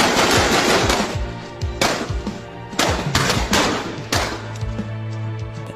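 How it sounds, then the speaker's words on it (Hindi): Bursts of rapid automatic gunfire, loud and close, in several volleys with short gaps, echoing over a low rumble. "अचानक गोलियों की आवाज़ सुनाई देती है"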